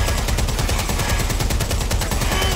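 Rapid, continuous gunfire in the video game Watch Dogs Legion, a loud stream of evenly spaced shots rattling without pause over a dense low rumble.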